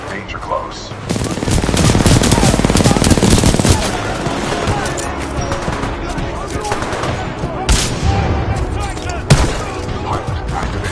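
Sustained supporting gunfire in the video game Titanfall 2 roars loud and dense, with continuous automatic fire and booming impacts filling the whole stretch and a few sharper blasts near the end, under occasional voice.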